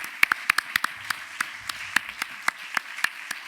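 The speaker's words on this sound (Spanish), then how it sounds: "Que nosotros a usted también le aplaudimos" Sparse, scattered claps from a small audience at a memorial tribute in Ibiza, fairly faint, with distinct individual hand claps spaced irregularly over a quiet room.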